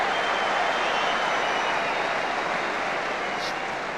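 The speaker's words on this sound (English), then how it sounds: "getting a huge round of applause for his first touch" Football stadium crowd at a Manchester United match applauding David Beckham, a broad, steady roar of distant clapping and crowd noise that fills the whole stretch without pause.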